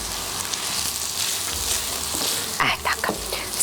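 Pork cracklings fry in a pan with a dense, steady sizzle and bubbling crackle, plus a few stirring scrapes near the end.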